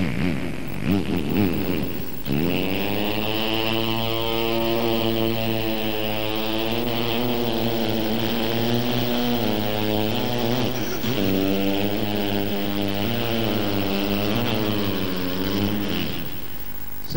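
A voice imitates a motorcycle engine, a long buzzing drone that revs up and down in pitch for many seconds, close and loud.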